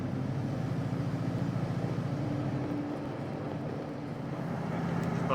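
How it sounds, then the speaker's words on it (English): A deep, steady exhaust rumble from a Chevy Astro van converted to a V8 idles and throbs low, fairly close, with a brief rise in pitch midway and no talking. "Sure love the sound of the exhaust though."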